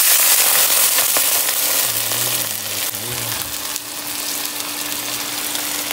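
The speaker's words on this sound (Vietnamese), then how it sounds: "bây giờ sẽ qua đây múc tí nước này đổ vô, rồi sẽ đổ vô nồi cháo" Water ladled into a hot pan of frying chicken sets off a loud, broad sizzle that starts strong and slowly settles into steady crackling, with a person speaking briefly over it.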